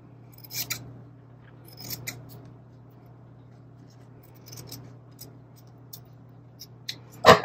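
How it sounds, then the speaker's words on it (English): Paper being trimmed with scissors while laying out a planner page, heard as a few soft, separate snips spread across the clip, followed by a louder, closer burst of cutting at the end. "So let's cut it down just a little bit more."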